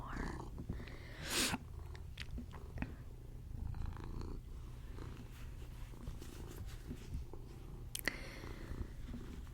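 An orange cat purrs steadily and softly in close range for the whole stretch, a low continuous rumble with a few faint rustles and light taps around it, in a quiet whispered ASMR setting.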